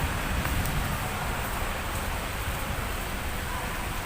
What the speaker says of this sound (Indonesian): Hujan lebat sampai di Padang